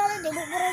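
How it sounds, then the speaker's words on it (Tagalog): A rooster crows in a single sustained, wavering call, close and loud, with no one talking over it. "tilaok ng manok."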